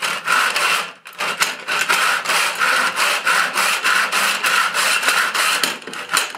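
A hand saw rasps through wood in a miter box in quick, steady back-and-forth strokes, loud and close, with a brief pause near the start.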